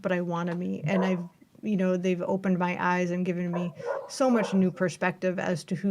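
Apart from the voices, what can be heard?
puppy barking in the background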